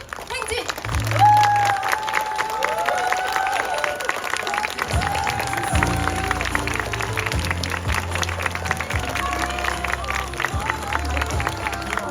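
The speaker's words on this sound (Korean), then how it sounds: "네, 박수 부탁드립니다." Wedding guests at a rainy outdoor hanok ceremony break into sustained applause that runs throughout, with crowd murmur and cheering mixed in and voices speaking over the clapping.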